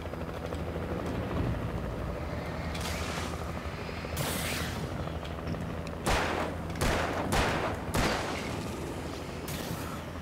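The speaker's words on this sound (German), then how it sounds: "so ein Helikopter mit Licht ist schon ziemlich nützlich" Helicopter with a searchlight in the Alan Wake video game, a steady low rotor drone running throughout, broken by bursts of gunfire and mechanical clatter in the second half.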